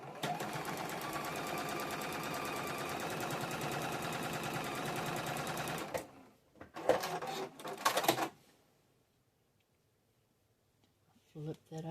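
A sewing machine stitching a flying goose quilt block runs in a fast continuous whir for about six seconds, then stops; a few short bursts of handling and fabric noise follow, and brief faint sounds return near the end.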